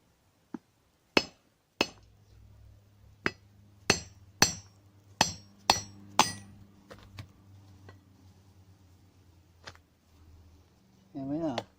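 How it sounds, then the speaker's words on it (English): A dead blow hammer taps a motorcycle wheel bearing out of its hub, about a dozen sharp, dull knocks at an irregular pace, close and loud, then some rustling at the end. "I'm using my favourite tool, which is this dead blow hammer"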